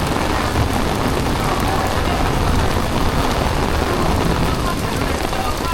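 Heavy rain pours steadily onto a town street in Montego Bay, Jamaica, a dense, continuous wash of falling water and splashing close by, with no clear voices over it.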